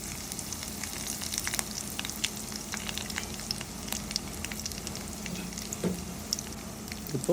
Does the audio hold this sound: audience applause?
no